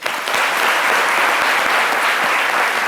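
Steady audience applause fills the whole stretch at full strength, a dense wash of clapping hands on a midday radio-style talk show, with no voices over it.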